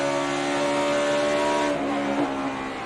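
NASCAR stock cars race side by side at the 2009 Southern 500. Their engines make a loud, continuous roar with a slight shift in pitch as they pass, and there is no talk.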